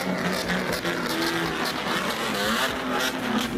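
Loud modified bosozoku car engine from a lowered Japanese custom car with long exhaust pipes, a steady dense roar continuing throughout with no speech.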